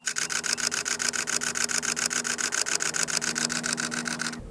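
A camera shutter fires in high-speed burst mode, a rapid, steady run of mechanical clicks, evenly spaced and continuous for several seconds, close and fairly loud with no talking.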